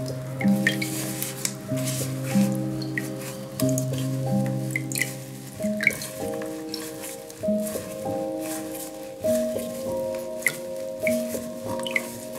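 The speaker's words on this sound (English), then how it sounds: "stretch out the sides to make the overall shape rounder, then squeeze out any excess water" Wet, squelchy squeezes of a kokedama moss ball pressing out excess water, with drips, recurring in short bursts over a steady tonal music bed.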